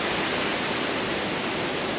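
Upper Yosemite Falls, the tallest waterfall in North America, gives a steady, loud, broadband roar of falling water that fills the whole moment without a break.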